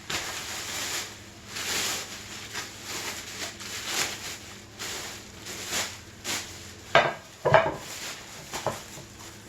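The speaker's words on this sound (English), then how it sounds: "I am going to put this garbage bag in it" A garbage bag is pressed into a metal cake pan, making a series of close plastic rustles and crinkles with light metallic knocks and taps, growing sharper and louder toward the end.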